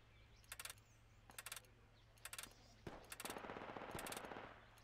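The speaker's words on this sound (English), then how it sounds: "Oh, taking fire from the tank." Tank machine gun fire in the Project Reality video game, several short, rattling bursts at a moderate distance, then a longer, denser stretch of rapid fire with louder individual shots.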